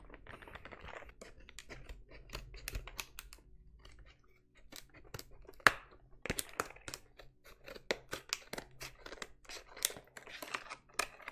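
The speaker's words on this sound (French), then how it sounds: "Je pense qu'on va devoir passer par les ciseaux." Scissors snip through a slime package during an ASMR unboxing, giving close, crisp clicks and short cuts with plastic crinkling between them in an otherwise quiet room.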